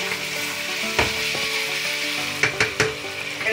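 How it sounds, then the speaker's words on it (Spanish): Sausages sizzle steadily in hot oil in a pan for tomato sauce macaroni, a continuous frying hiss with a few louder spatters and crackles near the end, close and with no talking. "ya le voy a echar las salchichas, que las tengo con el aceite caliente."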